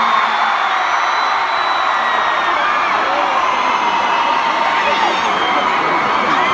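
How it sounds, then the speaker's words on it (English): A concert crowd in Manchester at a 2017 show roars and cheers steadily throughout, a dense, loud wash of shouting voices with whoops rising above it and no pauses. "it's no crowd that's crazier or rowdier than a Manchester crowd"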